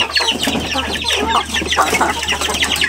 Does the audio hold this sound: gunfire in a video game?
no